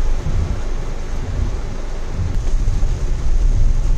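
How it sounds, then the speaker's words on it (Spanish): A thunderstorm over the Puerto Rico countryside at Lagunas de Aguada: steady loud rain hiss with low rumbling thunder rolling underneath, continuous and close, with no voices. "Miren qué clase de tormenta, mi gente."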